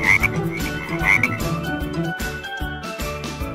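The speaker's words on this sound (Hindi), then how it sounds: "मेंढक का ताल्लुक फिकारिया जानवरों के ग्रुप एम्फिबियन से है।" A frog croaks in a loud, close series of repeated calls at a steady rhythm, with a tonal backdrop underneath and no voices.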